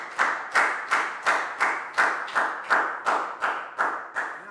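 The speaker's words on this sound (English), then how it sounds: "High five and a big round of applause for Pak Bung" Clapping in a classroom for a student, about eleven sharp, evenly spaced claps in a steady rhythm, each loud and close with a short decaying ring.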